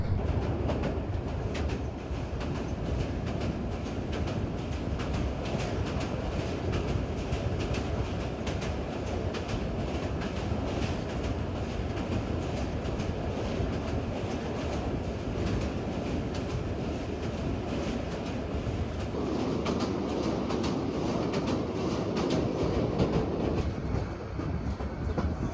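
The Parjatak Express rumbles across the Bhairab rail bridge with a steady, continuous clickety-clack of wheels and a loud, unbroken roar that lasts throughout, with no voices.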